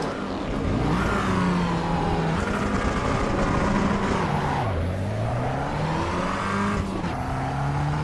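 A loud car engine in the racing video game Assetto Corsa EVO drones steadily, pitch rising and falling as it revs and shifts gears, with a high whine running throughout.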